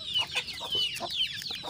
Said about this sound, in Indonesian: Tuh, lihat ayam makan begini nih kita senang lihat.